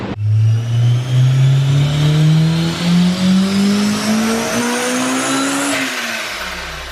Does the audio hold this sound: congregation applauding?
no